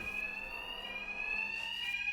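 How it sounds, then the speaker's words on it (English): A fire alarm blares steadily in a Batman: Arkham Knight game scene, its high electronic tone continuous and loud, with no voices over it. "Just like the others, these thugs can't hear a thing over the alarms."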